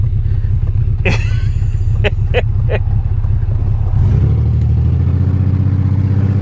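A BMW 325xi E46 bought cheaply from Copart, starting with a few sharp clattering bursts, then settling into a loud, close rumble that climbs into revving; a voice speaks briefly.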